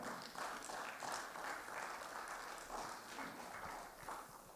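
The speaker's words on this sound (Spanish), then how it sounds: "denle un fuerte aplauso al Señor" A church congregation at a Spanish-language service breaks into steady, diffuse applause, a dense continuous patter of many hands heard from some distance and fairly faint.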